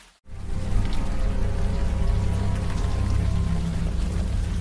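Steady warm rain pours down in the Unavowed video game, a continuous close hiss of falling water that starts abruptly after a brief silence and holds evenly throughout.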